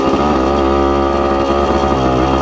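A Suzuki TC-90 motorcycle engine with a carburetor problem revs on a downshift, a loud, close, buzzing single-cylinder drone with rich harmonics that wavers slightly in pitch throughout.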